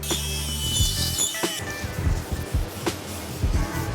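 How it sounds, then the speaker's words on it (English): An abrasive Scotch-Brite pad scrubs the scratched inner wall of a steam hammer cylinder, giving a series of short, uneven scraping strokes close by and fairly loud, with a few sharper metallic scuffs and no voices. "I'm gonna run some Scotch-Brite around the inside of the cylinder where it's a bit scratched up from the broken piston ring"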